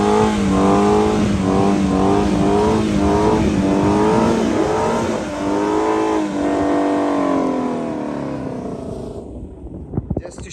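A 2018 Shelby GT350 being rebuilt after a wreck revs hard during burnouts on a private road, its engine note rising and falling in repeated surges before the roar fades out, with a few sharp knocks at the end.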